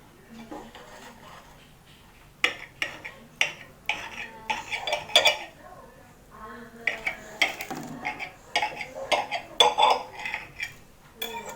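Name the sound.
cutting an Indomie noodle pizza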